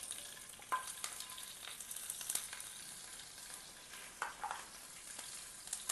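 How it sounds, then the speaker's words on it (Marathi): Chopped green chillies sautéing in oil for sabudana khichdi, a faint steady sizzle with light scraping stirs and a few small clinks, close and quiet, no voices. "मिरच्या चांगल्या परतवून घ्यायच्या आहे"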